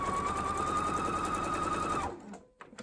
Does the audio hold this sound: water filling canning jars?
no